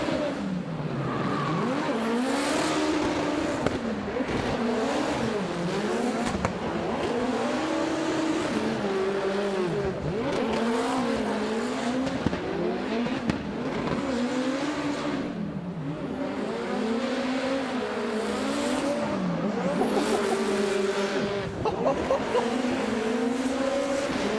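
A drift car at D1NZ Drifting Championship qualifying in Auckland's Go Media Stadium revs hard with wavering engine pitch and tire squeal through the run, loud and continuous, with commentary voices over it.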